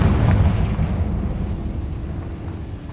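A Confringo explosion spell cast in Hogwarts Legacy: a loud, deep rumbling blast that fades slowly over a few seconds, with no talking.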